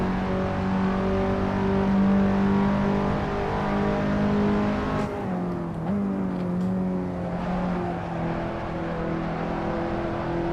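Race car engine on a fast lap at Sebring in a racing video game, a loud sustained whining drone with steady harmonics, dipping as it shifts and then climbing again, alone without talk.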